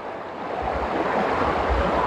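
A river current rushes nearby, a loud, steady broadband roar of flowing water that grows slightly stronger, with low wind buffeting on the microphone.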